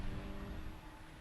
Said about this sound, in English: The CBR 600 making his way down